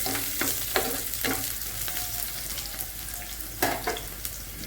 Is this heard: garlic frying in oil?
yes